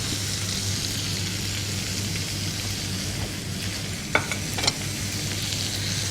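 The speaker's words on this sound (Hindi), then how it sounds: "यहाँ पे जो ब्रेड है वो मैं सेक रही हूँ" Bread slices toasting in a hot pan for an iftar dish give a steady soft sizzle and frying hiss throughout, with a couple of brief clinks or stirring scrapes near the end.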